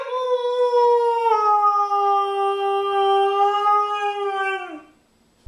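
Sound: dog howling

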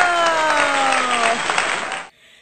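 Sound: applause

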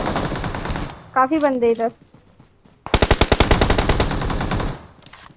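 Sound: M4 rifle gunfire in a video game

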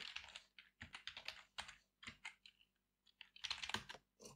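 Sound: typing an IP address on a computer keyboard

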